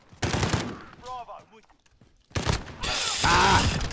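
Bursts of automatic gunfire in a multiplayer shooter game, two loud rapid volleys separated by a short gap, with a voice shouting briefly in between.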